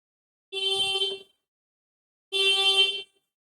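Two long, steady vehicle horn blasts sound from outside a classroom, each lasting under a second with a pause between, loud and clear with no talking over them.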